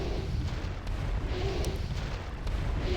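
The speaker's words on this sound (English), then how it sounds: "The random explosions can be a bit hard to dodge." Repeated muffled booms and blasts from a Warcraft 3 Reforged castle tower-defense map rumble continuously, dense and low, with no clear pause between the explosions.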